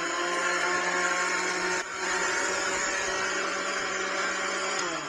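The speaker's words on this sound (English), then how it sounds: "I'm just going to blend this for a couple minutes." A blender runs continuously, dissolving sugar into hot water for simple syrup, a loud steady motor whir with a brief dip partway through before resuming at full power.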